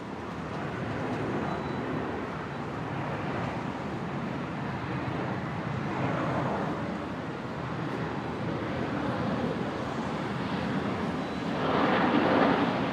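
A Virgin airliner arriving from Sydney roars steadily on its landing approach at Brisbane airport, a broad continuous engine rumble that holds level and swells slightly louder near the end, with no talk.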